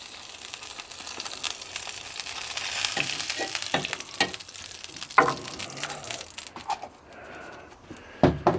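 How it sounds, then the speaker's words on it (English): Lamb chops sizzle in melted dripping on a shovel, a steady crackling fry with sharper spits and pops building toward the end, close and fairly loud. "I'm going to put a little bit of dripping on here, and then we're going to put the chops on"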